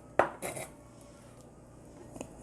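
Chopped onion and peppers tipped into a big bowl, a sharp clatter of dish and utensil followed by a brief soft tumble of pieces, close and otherwise quiet.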